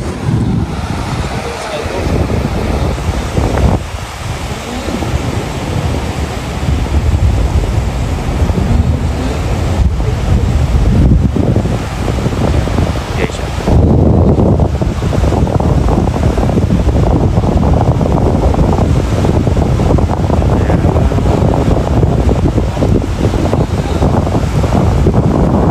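Sea waves at high tide roll and crash continuously while strong wind buffets the microphone, loud and close for the whole stretch, with voices faintly heard beneath.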